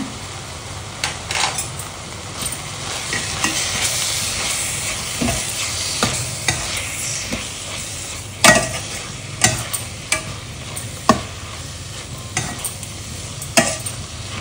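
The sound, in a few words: sautéing kurdu leafy greens in a pan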